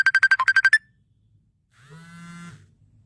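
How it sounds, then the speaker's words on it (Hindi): A phone ringtone repeats as a quick series of about eight bright electronic pulses, then falls quiet before a shorter, lower tonal ring sounds briefly near the end. "किसी का फोन आ रहा है, पता नहीं कौन फोन कर रहा है।"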